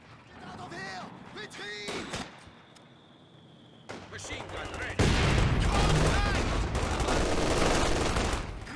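Machine gun fire and other gunshots crackle in a Company of Heroes 2 battle, with sporadic bursts early on, then a dense, loud stretch of continuous firing and explosions.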